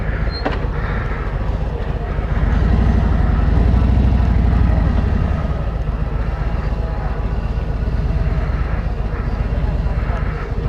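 A 2018 Harley-Davidson Street Glide Special on the move gives a loud, deep, continuous engine drone mixed with wind rush, swelling briefly in the middle, while a rider talks over it.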